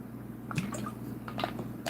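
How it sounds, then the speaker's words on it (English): A person takes quiet sips of water, with a few soft, wet slurps and small swallowing clicks close by against a low, steady room hum. "I need a sip of water too"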